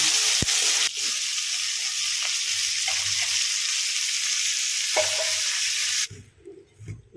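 Boiled potatoes and turmeric frying in hot oil, a loud steady sizzle with a few stirring scrapes, cutting off abruptly near the end into quieter clatter.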